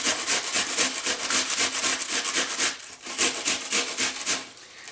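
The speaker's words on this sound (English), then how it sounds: "we're going to use the large size of our box grater. And we're just going to grind this down." An onion is rasped against the large holes of a box grater, a close rhythmic scratchy grinding in quick repeated strokes, loud and steady with no talking.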